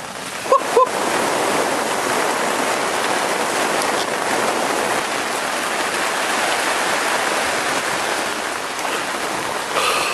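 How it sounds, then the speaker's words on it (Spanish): Heavy rain pours steadily during a storm at a lake while carp fishing, a dense close hiss of drops on surfaces filling the whole clip, with a couple of brief knocks near the start. "Ay, mirá la tormenta que se está viniendo."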